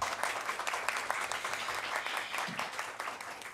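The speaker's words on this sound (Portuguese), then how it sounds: "Doutor Everton, eu queria pedir uma salva de palmas para esse grande homem" A room full of people claps steadily for a few seconds, a dense, even applause with no talking over it.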